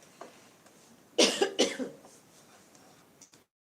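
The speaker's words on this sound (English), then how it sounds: "I don't know why I'm coughing." Two or three harsh coughs burst out close to the mic, followed by quieter throat sounds before the sound cuts off.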